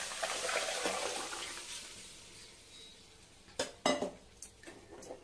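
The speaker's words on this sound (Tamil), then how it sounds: "நல்லா கலக்கி விட்டுடலாம்." Fish curry sloshing and bubbling in a pot as it is stirred, followed by a few sharp clinks of a utensil against metal near the end.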